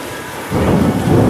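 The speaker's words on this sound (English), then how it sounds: "Y'all hear that thundering?" Thunder rolls in during a heavy rainstorm at an outdoor amusement park, starting as a low rumble and then swelling into a loud, sustained roar over steady rain.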